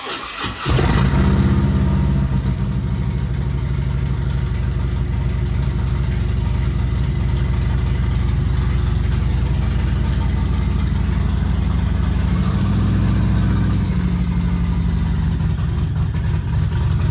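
A motorcycle engine starts with a sharp burst, then settles into a loud, steady idle close by, with a slight rise in revs near the end and no talk over it.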